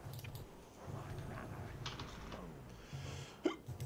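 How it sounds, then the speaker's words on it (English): Hiccups, a single short abrupt hiccup near the end over quiet background sounds from an online raid game session. "I blame it on the hiccups."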